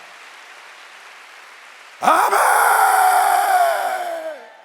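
A church congregation at a Korean Wednesday worship service bursts into sudden, loud, sustained applause with voices mixed in. The applause starts abruptly after a quiet murmur and fades out a couple of seconds later.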